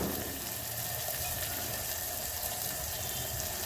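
Water pours steadily into a pan of cluster beans cooking in oil, a soft continuous hiss and trickle with no voices.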